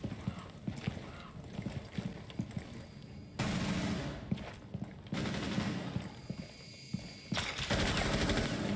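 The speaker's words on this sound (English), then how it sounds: "Does catch some gunfire." Bursts of game gunfire from a Rainbow Six collegiate esports match, the loud, dense volleys arriving in separate blocks with clattering, hoof-like footstep noise between them, and no talking.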